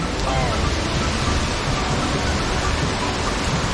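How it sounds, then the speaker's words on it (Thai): Steady, even rain falls during a rainy spell in Chonburi, Thailand, at an outdoor fish-pond filter job, a dense continuous hiss with no breaks or distinct drops for the whole stretch. "เดี๋ยวตอนนี้หยุดงานก่อนทำอะไรไม่ได้เลยฝนตก"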